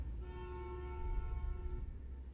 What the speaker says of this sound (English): Do we have a bus that drives around our neighborhood and honks?